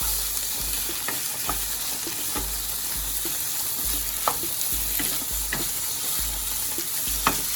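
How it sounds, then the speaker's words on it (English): Half a can of tomato paste sizzles steadily as it cooks down in a pan for a spaghetti sauce, with a spoon scraping and stirring at intervals over the continuous frying hiss, close up and with no talking. "A half a can of my tomato paste. And just cook it down a little."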